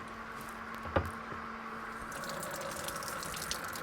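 A sump pump refills water during an aquarium water change, making a faint steady trickle and wash of water with a soft thump near the start and an even flow after it.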